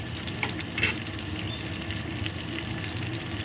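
Onion, tomato and garlic sizzle in hot oil for a fish dish, a moderate, steady frying hiss with a few soft stirring clicks and pops, close by and free of talk.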